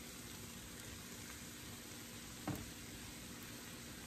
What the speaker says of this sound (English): gets a little harder to stir and blend everything together once the pan gets full